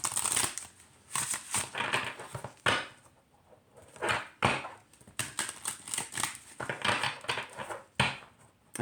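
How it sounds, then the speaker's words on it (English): An oracle card deck is side shuffled by hand, producing close, crisp riffling and flapping bursts in quick irregular runs with brief pauses between, alone without speech. "We'll start with the side shuffle to warm up the deck."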